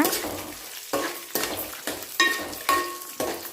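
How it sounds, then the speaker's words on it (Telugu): Green chillies and dried red chillies fry in hot oil with cumin, with steady sizzling broken by about seven rhythmic stirring strokes that scrape the pan, close and clear. "పచ్చిమిర్చి ఎండుమిర్చి వేగే వరకు కలుపుకోవాలి"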